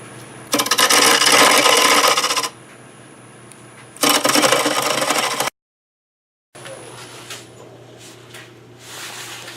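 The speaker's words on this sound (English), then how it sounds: "So I'm going to switch to the smaller hollowing tool." Hollowing tool cutting into a madrone crotch on a wood lathe, giving loud rasping bursts of about two seconds and one and a half seconds over a steady motor hum, a brief cut-out, then quieter scraping.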